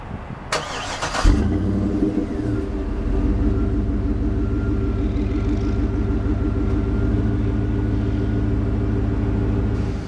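A 2012 GMC Yukon Denali's 6.2 liter V8 starts with a brief starter whir and a loud catch, then settles into a steady, deep rumbling idle that continues close and even to the end.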